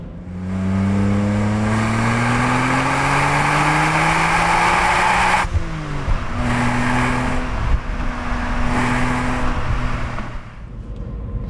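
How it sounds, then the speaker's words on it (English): A BMW Z4 M Coupé driven hard, its engine note climbing steadily through a long rev run, then a sharp shift followed by further pulls and a brief easing off, heard from inside the car. "I'm gonna drive some more in the Z4 M Coupé"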